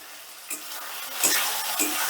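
Tomatoes with a pinch of salt stirred in a frying pan for a potato and eggplant curry with bori, soft sizzling broken by a few scraping stirs, close and steady with no talking.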